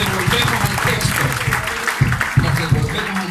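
A church congregation claps together in a brief burst of applause, with a voice speaking over it.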